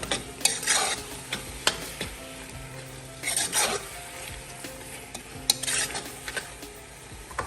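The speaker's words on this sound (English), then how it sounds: "Now I'm going to add the powdered shrimp. That's our njanga for flavor. Mix that in." Powdered shrimp (njanga) being stirred into a cooking pot: a few distinct scraping, rasping strokes recur every second or two over a soft background sizzle, close and fairly quiet, with no talking.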